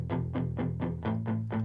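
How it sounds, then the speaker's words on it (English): A duplicated guitar track with added reverb, panned to the right, plays seven evenly spaced strummed chords with a steady rhythm and a wash of room-like decay. "I took the left track, duplicated it, added reverb, panned it to the right"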